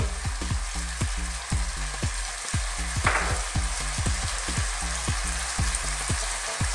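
Bitter melon and fish fry in a pan with fish sauce, a steady close sizzle overlaid by rhythmic clicking from the stove or utensil.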